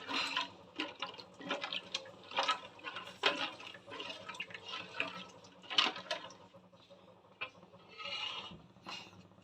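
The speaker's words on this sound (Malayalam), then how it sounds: "ഈ എടുത്ത് വെച്ചിരിക്കുന്ന പുളിയും പുളിവെള്ളവും കൂടെ ചേർത്ത് കൊടുക്കാം" Tamarind and tamarind water poured into fried chili and coriander powder in a pan for a Kerala-style tuna curry, giving a run of splashing, sizzling bursts with a few louder spatters, close by.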